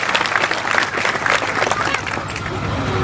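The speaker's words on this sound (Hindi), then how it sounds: "ताली बजे किसी बड़े सम्मान की" An audience applauds loudly and steadily at a Gondi religious gathering, a dense wash of clapping close by with crowd murmur mixed in.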